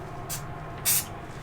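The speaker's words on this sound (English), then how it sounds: "I'll just spray that down" Two short hissing bursts of spray paint from an aerosol can onto scratched bare metal on a Sprinter van during a window install, the second burst louder and longer, over a low steady background hum.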